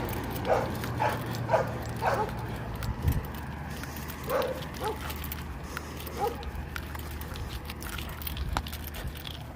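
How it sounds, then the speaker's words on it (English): A lively dog out on a walk gives short yips, whines and small woofs in scattered bursts, fairly close, over a steady low outdoor rumble. "Hey, this dog is so cool."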